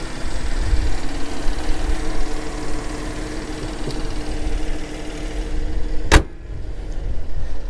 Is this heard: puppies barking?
no